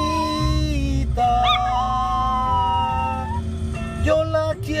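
A chihuahua howls along to a person singing, its rising, wavering high tones weaving over and between the sung melody, close and loud.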